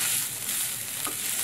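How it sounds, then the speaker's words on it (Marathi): Grated fresh coconut sautés in a pan for steamed modak filling, a steady close sizzle with faint stirring, brief and uninterrupted by talk. "आणि आता ओलं खोबरं टाकणार आहे त्याच्यामध्ये। थोडं परतून घेते मी।"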